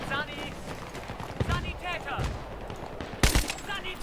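Gunfire in a Battlefield 3 team deathmatch, with scattered sharp shots, one loud close blast near the end, and German-speaking voices talking throughout.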